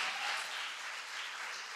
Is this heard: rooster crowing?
no